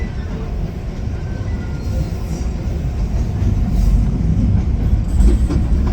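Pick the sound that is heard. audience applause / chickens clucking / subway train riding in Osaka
subway train riding in Osaka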